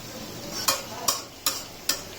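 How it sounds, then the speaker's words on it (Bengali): Sweet pumpkin frying in a pan: four evenly spaced spatula scrapes over a soft, continuous sizzle, close and clear with no talking. "মিষ্টি কুমড়া ভাজি করছি"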